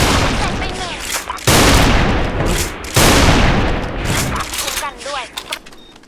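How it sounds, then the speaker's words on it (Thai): Barrett sniper rifle fire in the video game Special Force 2, shooting through a concrete wall: loud, close blasts with long booming tails, several in a row, with a player talking over the gunfire. "ทะลุไอ้กำแพงคอนกรีตนี่ด้วยนะ ว่ายิงทะลุได้นะ"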